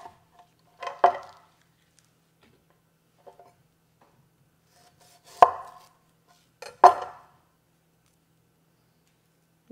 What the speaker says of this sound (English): So I have a shallot and a couple of green onions, and I'm just going to chop those up.